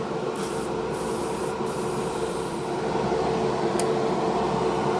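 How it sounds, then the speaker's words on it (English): A steady, continuous hiss of an airbrush dry spraying chrome paint runs throughout at moderate level, with no voices and only faint low rumble beneath. "So we'll just have a little dry spray."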